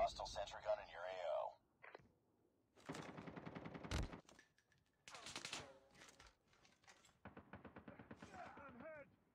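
A hostile sentry gun fires in a video game in rapid, rattling automatic bursts, mixed with electronic radio-style voices and game effects, fairly loud and broken into separate short volleys.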